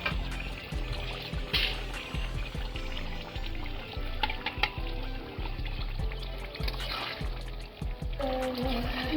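Liquid is poured steadily into a pot of cooking duck curry, making a continuous close splashing rush with a few brief clinks along the way and no speech.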